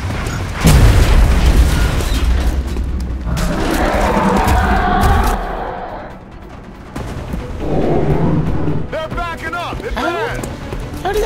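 A grenade detonates in an XCOM: Enemy Unknown battle: a loud, close boom near the start, followed by rumbling combat noise, with voices and chirpy effects later.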